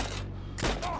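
Gunfire rattles in the Heroes & Generals wartime shooter game, a loud short burst of shots close by with a low rumble beneath.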